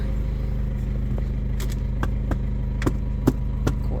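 A Gradall excavator engine, just repaired, idles steadily in freezing weather, a low continuous rumble broken by a few sharp metallic clicks and knocks.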